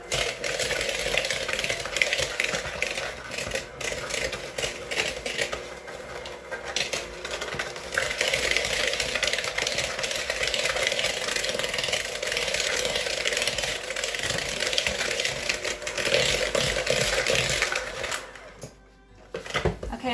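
Sugar and plant-based butter for dairy-free strawberry muffins are mixed with a whirring electric mixer that runs steadily for most of the stretch, dipping and rising, before it winds down near the end.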